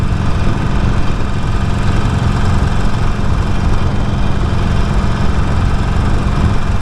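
A Harley-Davidson Forty-Eight Sportster motorcycle engine runs steadily, a loud continuous low rumbling throb close by with no talking.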